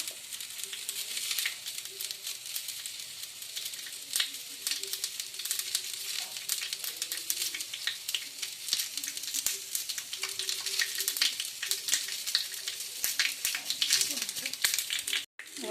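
Whole spices spluttering and sizzling in hot oil for dahi baigan, a steady crackling fry with scattered sharp pops, close and fairly quiet throughout.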